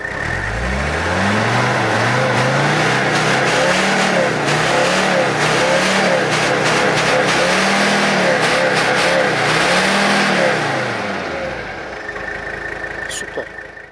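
Inside a Mercedes 300CD Turbo Diesel W123 coupe on the move, the engine drones steadily and rises and falls in pitch through gear changes, with a quieter stretch near the end.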